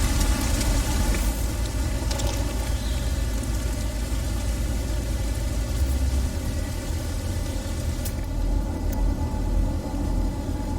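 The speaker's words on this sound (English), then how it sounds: "Poisonous rain." Poisonous rain falls steadily on a fungus planet in the game No Man's Sky, a constant loud hiss with a low rumble underneath and no voices.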